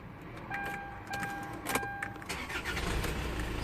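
A Kia Carens being started after an airbag clock spring repair: a few electronic dash chimes, then a short starter crank as the engine catches and settles into a quiet idle, close by.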